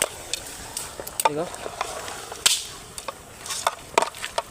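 Mutton biryani gravy being stirred in a pot, with intermittent scraping clinks and soft bubbling textures at close range, and a few brief voice-like sounds in between.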